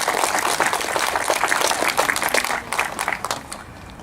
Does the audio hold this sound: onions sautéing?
no